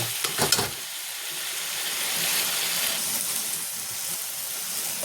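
Taro leaves fry in a pan with turmeric, chili and salt, giving a steady close sizzle and hiss, with a few scraping stir knocks at the start.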